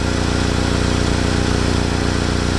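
A running engine with an exhaust leak from a split muffler seam chugs in a steady, loud, close rumble with a rapid puffing pulse and no voices.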